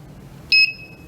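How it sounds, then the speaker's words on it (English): A single short, sharp electronic beep from a scooter control board, not connected to the other side, sounds once over a faint background hum, then only a brief fading tone lingers. "The reason it's beeping is because it's not connected to the other side."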